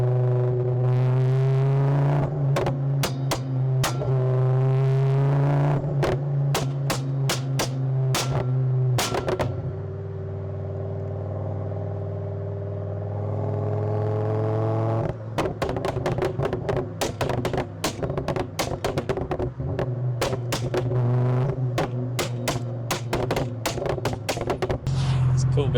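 A tuned turbo car with a bonnet exit exhaust fires off anti-lag in rapid bursts of sharp pops and bangs over a deep, steady engine drone, quieting briefly mid-way before the crackling clusters return loud and close.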